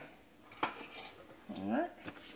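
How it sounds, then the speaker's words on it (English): Pancake batter being mixed in a bowl at home, with a few utensil clinks and a scraping stir against the bowl, quiet and close, with a faint voice in the background. "I can go ahead and mix together my pancake batter"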